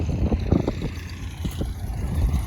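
A T-40AM tractor pulling a BDP-3 disc harrow across a sunflower field, heard as a steady, low engine rumble with gusty wind buffeting the microphone and no voices.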